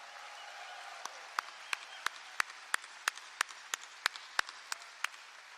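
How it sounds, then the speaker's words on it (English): Press conference audience applause for a college football coaching introduction, a faint wash of distant clapping with sharp, loud camera-like clicks or near claps punctuating it at a fairly regular pace. "I would like for you guys just to give a big round of applause"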